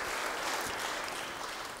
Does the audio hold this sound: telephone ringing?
no